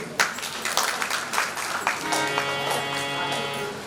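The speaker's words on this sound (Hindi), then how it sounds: "ताली बजा दो तीनों की" An audience at a religious discourse claps briefly in scattered, uneven bursts, then a steady sung or intoned voice takes over.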